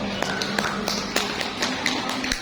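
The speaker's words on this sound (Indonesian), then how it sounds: "Tepuk tangan dulu buat kita semua." Clapping from a business gathering audience, with sharp distinct hand claps landing in a fairly regular rhythm over a background of room murmur and a faint voice.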